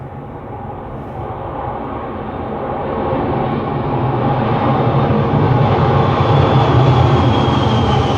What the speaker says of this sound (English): Let's try 747 taking off.